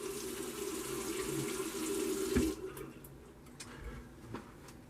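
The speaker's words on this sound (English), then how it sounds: "Let's rinse off that alum." Tap water running into a sink while a face is rinsed of shaving alum, a steady splashing flow that cuts off partway through, followed by a few drips and small handling knocks.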